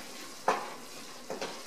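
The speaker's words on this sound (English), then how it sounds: "Okay, so we're going to stir the tomato paste around." Spoon stirring tomato paste in a pot while cooking chili, two soft scraping strokes about a second apart over a quiet sizzle.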